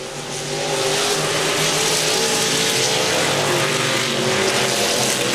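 Street stock race cars racing on a dirt track during a Memorial Day show: a loud, continuous roar of several engines, swelling as the field passes close and then holding steady.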